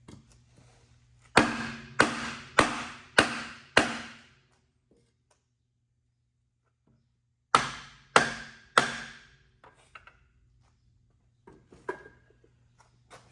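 Hammer blows strike the transfer case of a Dodge diesel truck, a close, sharp metallic series of five evenly spaced hits, a pause, then three more, followed by faint clinks.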